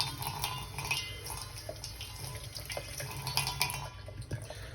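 Running water from a tap as hands and sharpening stones, including a black Arkansas stone, are rinsed under it, a continuous faint splashing with a few light knocks against the sink, no talk.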